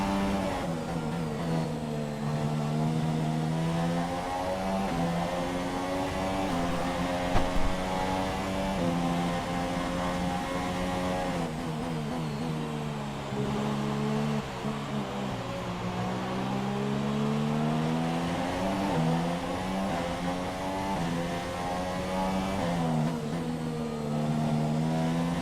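A high-pitched Formula One car engine in a racing video game screams steadily, its pitch rising and falling with gear changes and acceleration, with no talking.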